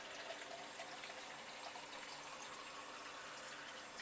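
A kitchen tap runs steadily, filling a measuring cup with cold water in a continuous gushing stream, close and even, with no voices.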